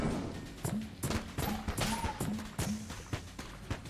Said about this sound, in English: just keep shooting, man